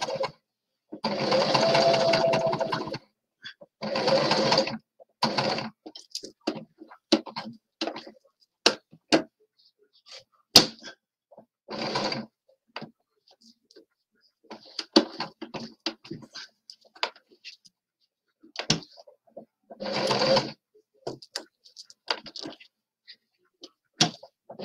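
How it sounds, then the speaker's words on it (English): A sewing machine stitches a doll in short bursts of rapid whirring, some lasting a couple of seconds and others just brief stabs, separated by quiet pauses and light ticks, close and fairly soft. "I can buy a good sewing machine."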